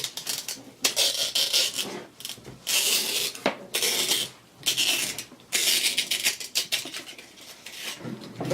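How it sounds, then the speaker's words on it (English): A razor knife saws and scrapes through the cone spider of a 1965 Vox AC30's Celestion speaker, giving rasping bursts of cutting that come close up with brief pauses between strokes. "reach down with the razor knife and cut the spider"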